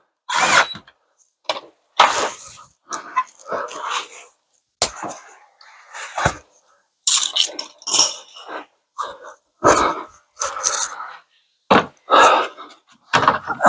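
Power tool tightening bolts while fitting a carbon fiber front splitter on a C7 Corvette, heard as a series of short, sharp bursts of drilling and impact with brief pauses between them, close and fairly loud.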